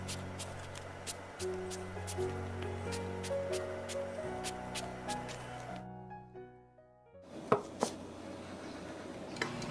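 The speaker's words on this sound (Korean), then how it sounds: "반으로 썬 가지는 칼집을 넣어서 격자무늬 모양을 내주세요." A knife taps rapidly and repeatedly against a cutting board, scoring a crosshatch into halved eggplant in crisp, close strikes, with a brief pause before a few more clicks and clatters.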